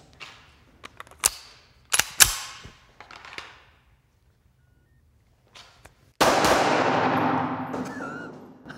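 Handgun shots from an XD series small pistol, a quick string of sharp cracks in irregular bursts with brief pauses, then a long loud ringing wash after the final shot, close and without talk.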